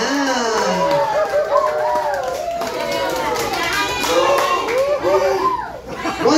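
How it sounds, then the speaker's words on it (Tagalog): Clapping and excited cheering from children and adults at a Jollibee kids' party, with rhythmic claps under high-pitched shouts and squeals, lively and close throughout. "malakas sa palakpakan at masigabong hiyawan ang kailangan niya"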